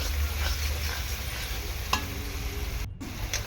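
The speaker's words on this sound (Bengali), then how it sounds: "চিনিটা ছড়িয়ে দিয়েছি, দিয়ে এরকমভাবে নাড়াচাড়া করে নেবো" Chicken pieces with spices frying in oil are stirred in a pan, a steady close sizzle with soft scraping strokes, sugar having just been sprinkled in near the end of cooking the spice mix.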